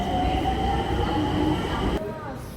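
Nagpur metro train running with a steady loud rumble and a high whining squeal of wheels, heard close from nearby, before the noise drops off abruptly near the end.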